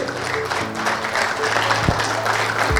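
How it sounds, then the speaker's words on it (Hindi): An audience claps steadily for a speaker walking up at a leadership development program event, a thick continuous wash of applause with a faint tonal hum running underneath. "सर के लिए जबरदस्त ताली होना चाहिए।"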